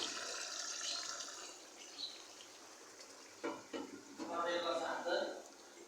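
Rice stirred together with ground coriander and cumin in a pan for biryani, a soft steady sizzle broken by louder scraping stirs in the last few seconds.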